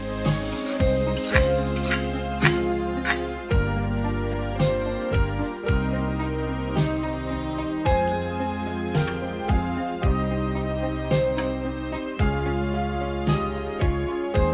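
Hot fried tempering sizzles and crackles steadily as it is stirred into pumpkin payasam, a Kerala sweet, with a spoon scraping the pot in a repeating rhythm, close and continuous, no speech.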